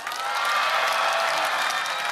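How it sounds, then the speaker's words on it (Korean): A crowd applauds steadily at an outdoor charity concert at Seowon Valley, a dense wash of clapping that holds at an even level from start to finish. "자 다시 한번 박수"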